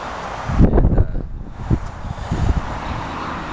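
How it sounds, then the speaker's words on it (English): Wind roars and buffets steadily while travelling on the road, with rushing gusts and low rumble peaking in the first seconds and then settling into a constant blowing hiss. "Back to the wind."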